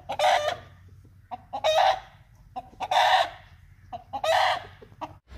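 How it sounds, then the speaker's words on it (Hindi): A white rooster clucks in four loud, close bursts spaced about a second apart, with quieter clucks and faint background noise between them. "ये सफ़ेद वाला मुर्गा मिल गया जी"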